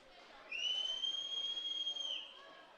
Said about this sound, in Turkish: ve son düdük geliyor değerli izleyenler